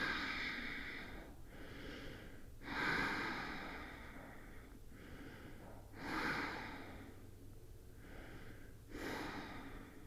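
Slow, deep breathing during a calming yoga pose, with long hissing inhales and exhales repeating about every three seconds, close and soft in a quiet room with no talk.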